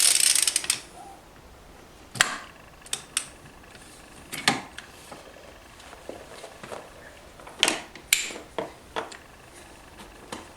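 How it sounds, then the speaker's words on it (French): Ratchet wrench fitted with a 15 mm socket loosening the ignition nut on a 50cc moped engine, giving scattered sharp clicks and clacks spaced a second or so apart, close and fairly quiet over low background hiss. "à l'aide d'un cliquet comme nous par exemple équipé d'une douille de 15, vous allez pouvoir desserrer votre écrou d'allumage"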